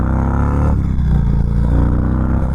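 An Indian Chief Darkhorse cruiser motorcycle pulls away from a takeoff with a loud, close, throbbing V-twin rumble, the engine note rising with a brief dip partway through. No voices are heard.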